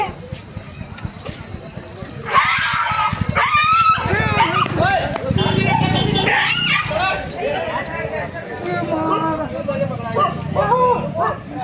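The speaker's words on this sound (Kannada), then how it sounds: "ಗದಗ ಬೆಟಗೇರಿ ಅವಳಿ ನಗರದಲ್ಲಿ ಬೀದಿ ನಾಯಿಗಳ ಹಾವಳಿ" Stray dogs in the Gadag-Betageri twin city bark and yelp repeatedly, loud and close, over a busy street scene with people talking throughout.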